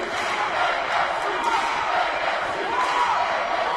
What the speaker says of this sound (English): Get the ASU chants going from the crowd here at Wells Fargo